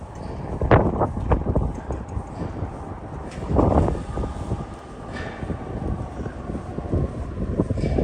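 Wind gusts across a New York City street corner, a loud, steady roar with buffeting bursts against the microphone, mixed with distant low traffic rumble throughout.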